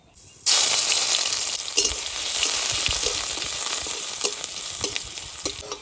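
Crushed garlic tipped into hot oil with black cumin and dried chili bursts into a loud, sudden sizzle, then keeps frying steadily while a utensil stirs and clinks against the pan.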